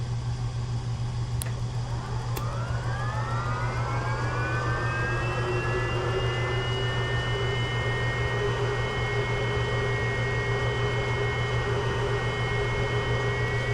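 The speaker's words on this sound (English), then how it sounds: "And start the engine." A TBM-900 turboprop engine spooling up in a flight simulator game: a rising whine climbs over the first few seconds and then holds as a steady loud drone with a constant low hum beneath, with no talk.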